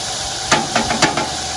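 Onions sizzle in a pan on a Coleman three-burner stove for cabbage fritters, a soft steady hiss broken by a few quick scraping clicks of stirring.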